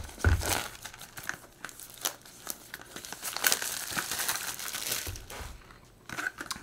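Cardboard and plastic packaging for a KIMAFUN KM-G50-1 wireless microphone is opened and handled close by, giving irregular crinkling and tearing rustles with occasional sharper crackles.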